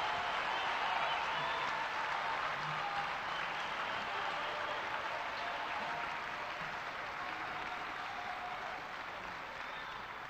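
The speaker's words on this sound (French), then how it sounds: "nous prions l'assistance de féliciter le président de la République par des ovations et des applaudissements très nourris" A large crowd gives a sustained ovation for the president at the inauguration of a financial centre in Kinshasa, a dense, even wash of applause that stays faint and distant and eases slightly toward the end.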